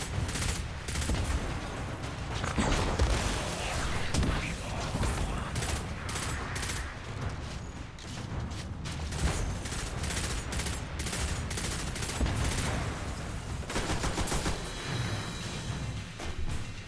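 Rapid gunfire from the mobile shooter game Destiny, dense bursts of automatic shots and crackling impacts running continuously and loud, with brief dips between volleys.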